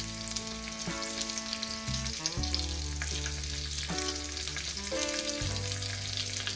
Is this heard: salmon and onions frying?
yes